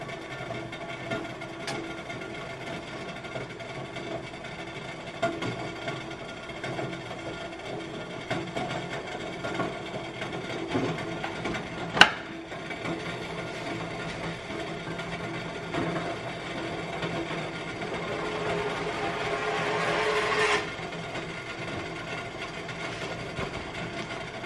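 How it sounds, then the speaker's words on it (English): A stove runs with a steady, even drone throughout, broken by one sharp click near the middle and a brief swelling hiss near the end. "I just turned the stove back on. It's probably what y'all hear."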